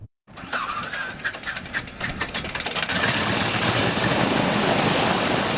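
World War II-era airplane engine starting up before a veteran's ride: coughing, sputtering firing that builds into a loud, steady rumbling roar outdoors.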